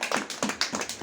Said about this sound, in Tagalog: Bigyan natin ng masigabong palakpak ng Panginoon.